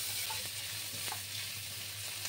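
Garlic, ginger and softened tomato are stirred together in a hot pan for egg curry, a brief, soft sizzle with a couple of light scrapes, heard close and alone.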